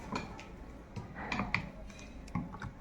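Faint, scattered clinks and taps of stirring water inside a mixer jar while making homemade ambol, close and quiet with a few sharper knocks against the jar.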